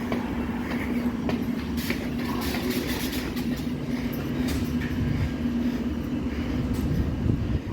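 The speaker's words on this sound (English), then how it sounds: "This puts me at the back of the train." London Underground tube train running through a station, a loud, steady rumble with rattling wheels and faint clicks, heard close from on board without talk.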